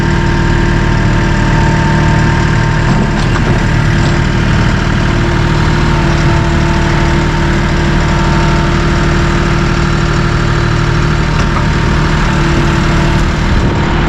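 A Massey Ferguson 1M compact tractor with a loader, its diesel engine running loud and close in a steady, unchanging drone with a deep, constant hum.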